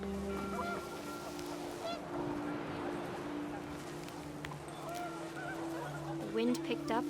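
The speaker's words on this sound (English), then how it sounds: "The wind picked up, and panicked geese appeared and quickly went" Panicked geese honking in the video game What Remains of Edith Finch, scattered short calls over a windy backdrop, with a louder cluster near the end and a voice talking at times.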